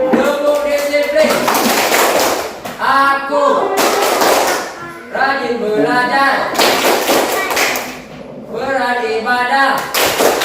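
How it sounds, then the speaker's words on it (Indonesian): A rhythmic 'tepuk disiplin' clapping routine during a teacher-training practice lesson: patterned group claps in bursts, interleaved with loud sung chanting voices throughout. "Mari tepuk disiplin."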